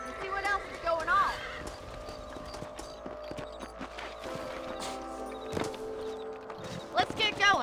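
Horse hooves gallop in a steady clip-clop rhythm in the Red Dead Redemption video game, mid-distance under game music and ambience, with someone talking over it and a whinny near the end.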